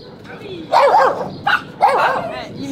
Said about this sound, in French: Il y a un super berger